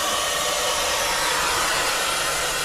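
A steady, loud roaring hiss of a welding torch flame during a refrigerant leak repair, continuous and unbroken throughout with no voices.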